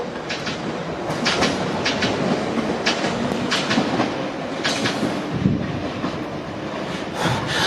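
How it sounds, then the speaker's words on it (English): A London Underground Piccadilly line train to Heathrow Terminal 5 departs Northfields station at night, a loud, steady rumble with rhythmic clickety-clack of wheels over rail joints throughout, heard close and alone. "And departing behind me is the Piccadilly line service to Heathrow Terminal 5."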